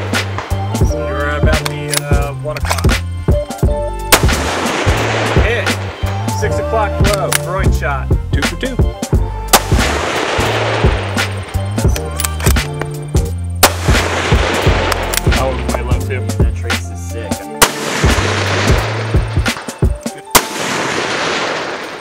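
Rifle shots from a Q Fix in 6.5 Creedmoor at an outdoor shooting range, several loud sharp reports spaced a few seconds apart over steady background noise and a persistent low hum.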